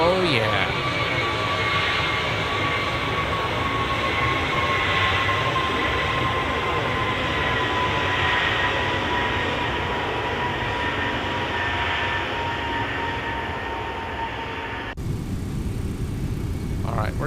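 Steady, loud roar of an MD-11 airliner making a low flyby in X-Plane 12 flight simulation, a continuous broadband engine drone with a whining tone, constant throughout and shifting slightly near the end.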